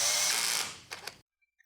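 A power drill boring through a hole, a loud whirring burst that fades as the bit breaks through, followed by two short buzzy spurts before it stops and falls silent.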